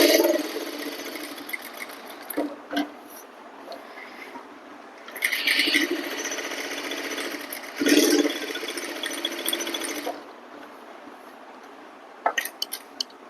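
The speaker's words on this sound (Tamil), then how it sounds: "இப்போ இந்த கர்வையும் ஸ்டிச் பண்ணுறேன் பாருங்க." A sewing machine stitching a curved line in cloth, running in several bursts of rapid mechanical whirring separated by pauses, close and fairly loud.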